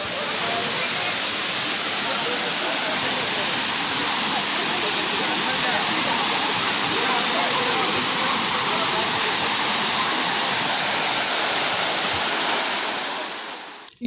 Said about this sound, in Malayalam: അടുത്തു വരും തോറും വെള്ളച്ചാട്ടത്തിൻ്റെ ഇരമ്പൽ കൂടി വരുന്നുണ്ട്.